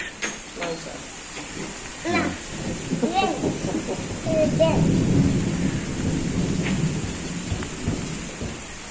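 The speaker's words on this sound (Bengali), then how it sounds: "তো বৃষ্টি শুরু হয়ে গেল এবার আসলাম" Rain falls steadily in a thunderstorm, with a broad hiss throughout and a low rumble swelling in the middle, while people talk nearby.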